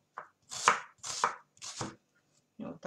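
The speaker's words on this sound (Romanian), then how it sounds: "Eu tai așa mai mărunțel." A knife chops half an onion finely, about five crisp, close strokes in an uneven rhythm with brief pauses between them, no voices.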